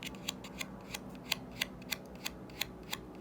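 Thick paperboard tarot cards in an ASL deck being handled and mixed by hand rather than riffled, giving a regular series of crisp, close papery snaps and flicks about every third of a second over a quiet room.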